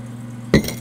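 A single short clink of garnet red glass goblets made in China, one bright knock over a low background hum.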